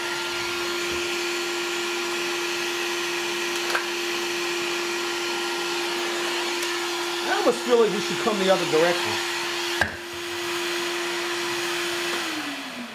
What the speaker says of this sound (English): mosquito vacuum that we are using